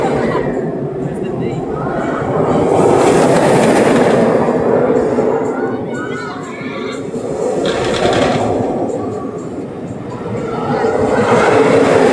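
A B&M floorless roller coaster, Dominator, about 25 years old, rattles and roars along its track, its loud rumbling swelling and fading in waves, with riders' voices and screams mixed in.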